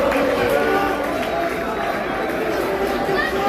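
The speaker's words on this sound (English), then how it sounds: "and the crowd is going wild" A packed rink crowd roars after the tying goal in a high school hockey sectional semifinal between Monroe and Middletown North, a loud, sustained wash of cheering and crowd noise that stays at full strength throughout.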